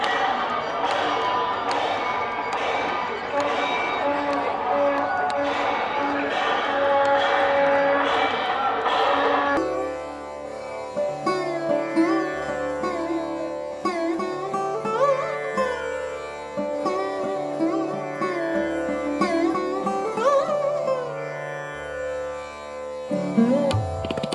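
An aarti ceremony at Mahakal temple in Ujjain with a large seated crowd, starting with dense rhythmic percussion and crowd noise, then shifting to sustained chanting or tonal music with steady beats through the rest.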